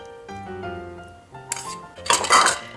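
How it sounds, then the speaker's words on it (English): Eggs and butter tipped into sour cream in a mixing bowl, giving a few close clinks and scrapes of utensils against the bowl, with a busier clatter near the end. "We're just going to tip our eggs and butter in with our sour cream"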